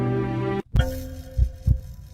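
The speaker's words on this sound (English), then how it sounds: "This is the beating heart of an African" Heartbeat sound effect: a sustained hum cuts off, then three deep, evenly spaced thumps pulse close and soft.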